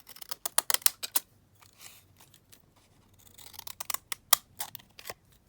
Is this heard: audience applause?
no